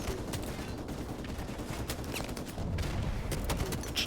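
Rapid automatic gunfire rattles continuously in Call of Duty Modern Warfare Remastered during a house-to-house firefight, dense bursts overlapping throughout at a moderate level, with a single short spoken exclamation.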